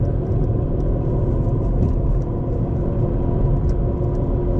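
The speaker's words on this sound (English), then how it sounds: "He's chasing me down with the dump truck." A dump truck engine rumbles steadily and loudly throughout, a constant low drone with no breaks and no voices.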